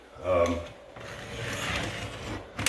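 A razor knife scoring along a wooden trim piece beside kitchen cabinets, then prying at it, giving a rough rubbing scrape that builds into a steady grinding rasp, close up with a brief voice at the start.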